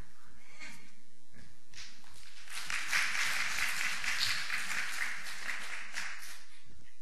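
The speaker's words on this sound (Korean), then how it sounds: "간증이 나오니까 박수가 나오네" A church audience applauds after a testimony letter from a son, a swell of clapping that builds from scattered claps into fuller applause in the middle, then tapers off, moderately loud.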